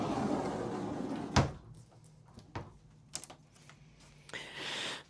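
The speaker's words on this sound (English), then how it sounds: "there's a solid pocket door." A solid pocket door in a camper bunk room slides with a sharp knock, then rattles and rolls along its track with light clicks and a brief whooshing glide at the end.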